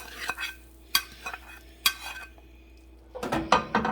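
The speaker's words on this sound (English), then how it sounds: "Now we're going to add our onions and our garlic to the ground beef." Ground beef with onions and garlic being stirred in a pan, a few sharp spoon scrapes and clinks against the pan spaced about a second apart over a faint background, followed by a busier cluster of stirring clatter.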